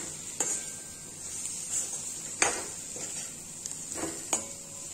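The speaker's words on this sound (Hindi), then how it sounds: "अब मैं इसमें ऐड कर दूंगी शिमला मिर्च" Capsicum is stirred into a pan of baby corn masala, with a steady sizzle running underneath and several sharp spatula scrapes and clinks against the pan.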